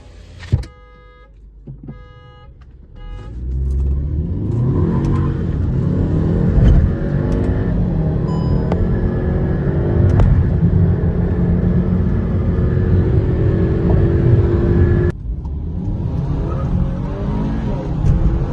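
Stage-1 tuned and stock Skoda Octavia 1.8 TSI cars accelerating side by side in a drag race, a loud sustained engine roar with rising revs and gear changes that holds steady, then drops abruptly near the end.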